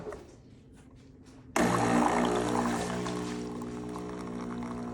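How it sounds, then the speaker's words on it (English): Hot water pours from a Philips coffee machine into an espresso cup, a sudden steady splashing stream that starts after a quiet moment and keeps running close by without talk. "I'm just gonna add a little water to my espresso because I'm making an Americano and I hit hot water."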